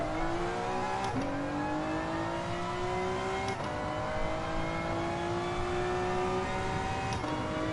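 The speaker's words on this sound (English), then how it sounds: "Lovely drift car. It's beautiful." A drift car's engine revs steadily in a PS4 racing game, its pitch climbing and then dropping at each gear shift, about three times over a continuous loud drone.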